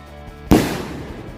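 A single firecracker bursting in a sharp, loud bang over a faint background hum, the boom decaying quickly, set off during New Year 2026 celebrations.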